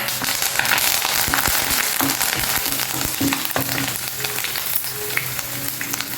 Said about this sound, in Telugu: ఇప్పుడు కరివేపాకు వేసేసుకుందాం